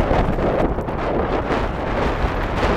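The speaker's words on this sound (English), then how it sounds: "This wind. I've been mentioning a lot out here today, but good heavens, it's shaking the camera a little bit" Gusty wind buffets an outdoor microphone at a high school baseball game, a dense rumbling roar with uneven surges, continuous and loud throughout, no voices.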